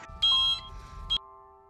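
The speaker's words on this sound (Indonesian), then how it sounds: "tiba-tiba, suara gosong dari oven berbunyi" An oven alarm in the horror film Annabelle Comes Home gives a couple of sharp, high electronic beeps, close and clear, the last tone ringing briefly before fading into a low hum.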